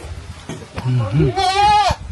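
A goat bleats loudly and close in a kitchen area during a home-help visit, one wavering drawn-out call rising in pitch, with people talking around it.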